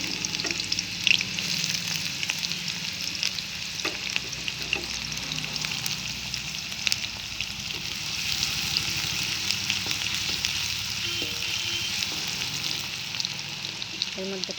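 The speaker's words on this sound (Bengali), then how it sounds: "তেল গরম হয়ে গেলে আমি এই পেঁয়াজ দিয়ে দিলাম," Chopped onion frying in hot oil in a pan, a continuous close sizzle with occasional crackles and light stirring clinks, moderately quiet and unbroken for the whole stretch.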